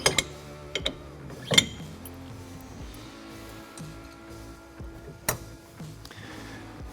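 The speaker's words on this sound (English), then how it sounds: "we're going to pull our clips on the back pins and pull our pins" Metal clips and pins are pulled from a B&W Tow and Stow hitch, giving sharp clicks and clanks up close, with a few scraping, sliding metallic sounds in between.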